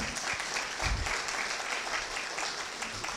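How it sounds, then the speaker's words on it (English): Audience applauding in a council chamber at a portrait unveiling ceremony, a steady wash of many hands clapping at moderate level throughout, with no voices over it. "Let's give them all a round of applause again"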